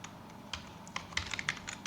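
Typing on a computer keyboard, with a quick run of crisp, irregular key clicks that bunch into bursts, close and fairly clear, alone without talk.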